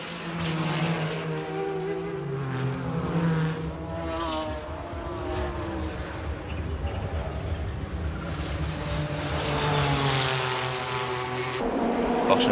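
Porsche 911 GT1 race cars on the opening lap of the 1996 Le Mans 24 Hours, a loud sustained engine roar with rising and falling pitch as the cars pass, steady throughout with a brief cut near the end.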